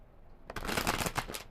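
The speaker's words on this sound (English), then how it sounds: "I have already shuffled these cards thoroughly for you." Tarot cards shuffled by hand after a quiet start, a close burst of crisp riffling and swishing with a few sharper snaps.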